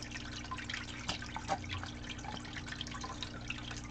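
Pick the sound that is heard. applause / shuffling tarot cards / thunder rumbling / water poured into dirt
water poured into dirt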